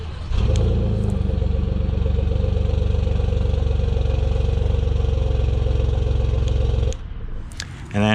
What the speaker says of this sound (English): So to move on to driving these, let's first check out the exhaust.